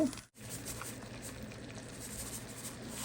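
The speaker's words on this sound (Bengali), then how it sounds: "তো ঘিয়ের সাথে গাজরটা আমি ভালোভাবে ভেজে নিব।" Grated carrots frying in ghee, a soft, steady sizzle and patter after a brief pause at the start, close and even, with no voices.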